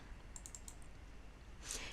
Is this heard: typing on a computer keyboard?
yes